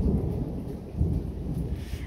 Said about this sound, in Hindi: कैन यू गाइज लिसन, बादलों की गड़गड़ाहट